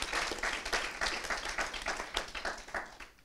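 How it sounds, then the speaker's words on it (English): An audience bursts into applause at a world forum event, a dense rolling clapping from many hands that holds steady and then starts to fade toward the end. "Please, one round of applause."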